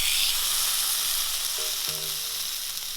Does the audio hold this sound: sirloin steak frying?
yes